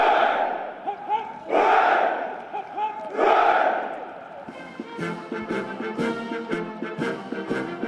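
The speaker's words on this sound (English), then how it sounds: "They sang, "For He's a Jolly Good Fellow," as he waved to the crowds" A large crowd in London sings and cheers for Prince Philip, the Duke of Edinburgh, as he waves on his last engagement as Captain General of the Royal Marines, with swelling voices in waves and then band-like music.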